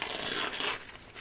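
Embroidery stabilizer being torn away from a stitched Mother's Day card, a close, continuous papery ripping and crinkling that fades slightly toward the end.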